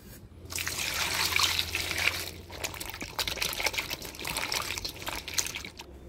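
Tap water runs and trickles while peeled ridge gourd is washed in a kitchen, a steady close splashing stream with brief changes as the gourd is moved under it.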